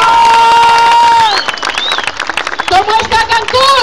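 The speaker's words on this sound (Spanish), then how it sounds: "¡Fuerte el aplauso!" Crowd at an outdoor political rally in Cancún cheering and clapping loudly while a shrill whistle or horn tone sounds through it, giving way to ragged bursts of applause and shouts, with amplified voices in the mix.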